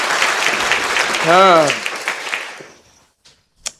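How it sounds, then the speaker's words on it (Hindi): A studio audience at an Islamic quiz competition claps for a quiz participant, a steady burst of applause lasting a couple of seconds, with a brief voiced utterance in the middle before the clapping fades to quiet. "तालियां हो जाए सर पार्टिसिपेंट बी के लिए पहले तो"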